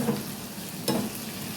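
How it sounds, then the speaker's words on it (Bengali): Masala for egg curry sizzles in a pan and is stirred, a brief close frying hiss with a single spatula scrape. "পুরো মশলাটা আমার ভাজা ভাজা হয়ে গেছে।"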